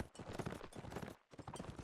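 Horse hooves clip-clop in quick, steady rhythm during a real-time strategy game battle, close and clear with no other sound over them, with one short pause partway through.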